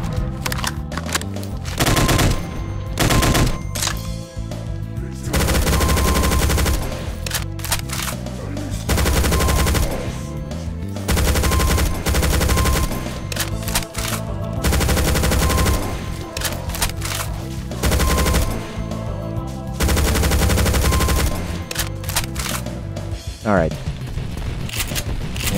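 Gunfire from enemy gunners in Doom 2 with the Project Brutality mod, loud bursts of rapid machine-gun fire coming in repeated volleys separated by short pauses.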